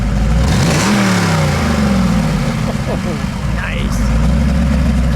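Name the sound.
1991 De Tomaso Pantera 90 Si 302 V8 engine revving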